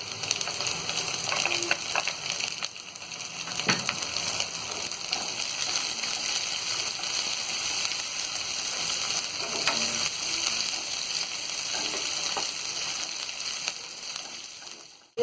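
Chopped green chillies sizzle and crackle in hot oil in a pan for samosa filling, with a continuous close frying hiss and occasional scrapes of stirring throughout.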